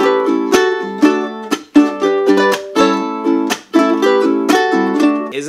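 Ukulele playing the instrumental solo of a song together with a strum accompaniment, with bright plucked notes and rhythmic chord strokes in a steady, lively pattern, loud and close with no talk.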